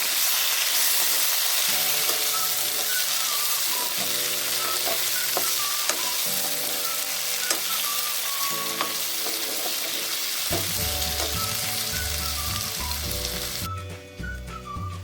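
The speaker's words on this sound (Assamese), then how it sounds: "পিঁয়াজখিনি অকণমান ভজাৰ পাছতে মই কাটি লোৱা বিলাহীখিনি দি লৈছোঁ ইয়াত।" Onions and chopped tomatoes fry in a pan for an Assamese fish tenga, a strong continuous sizzle and hiss running the whole time under melodic background music.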